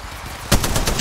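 Gunfire in the battle royale game Apex Legends on the Kings Canyon map: a sudden sharp shot followed by a quick rattling burst of automatic fire, close and loud over a dull background.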